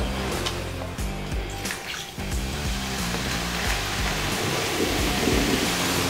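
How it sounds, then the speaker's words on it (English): Vinegar poured down a drain for a plumbing hack, fizzing and gurgling in a steady dense hiss with bubbling low churning, close and continuous for several seconds. "It is bubbling up good. You see it gurgling too, like it's really cleaning stuff up down there."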